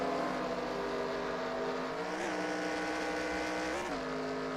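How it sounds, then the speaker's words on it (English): Race car engine in a NASCAR-style racing video game at Talladega, droning steadily at high revs with a couple of brief pitch dips and rises as the car downshifts, loud and continuous with no talk. "Did he downshift? He did, to try to get the momentum back."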